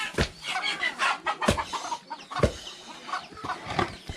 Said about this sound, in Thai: ได้ยินเสียงเป็ดเสียงไก่บรรยากาศบ้านๆอยู่บ้านเฮาพี่น้องเลย